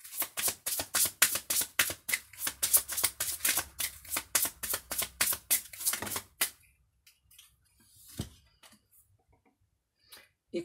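Tarot-style cards riffled and shuffled during a card reading, a fast run of crisp flutters for about six seconds, then a few soft taps and handling sounds near the microphone with no talk.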